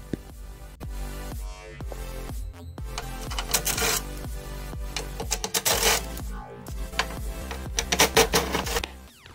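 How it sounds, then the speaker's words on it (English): Screws are backed out of the side of a GE PTAC unit by a power driver, heard as whirring runs with rising and falling pitch, plus metallic clicks and rattles, close and without speech. "we have three screws that I'm gonna have to remove next"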